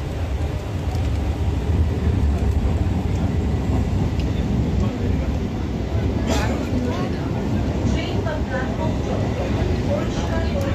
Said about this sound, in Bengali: ওই যে ট্রেনও ছেড়ে দিয়েছে